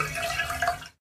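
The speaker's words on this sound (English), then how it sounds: "Click on the container to pour water in the" Water pouring into a bathtub in the Peg + Cat Bubble Bath video game, a brief splashing gush lasting about a second before cutting off abruptly.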